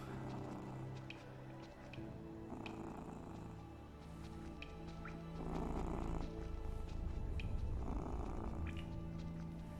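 A sleepy cat purrs up close, a soft, continuous rumbling that swells in rhythm with each breath, quiet and alone.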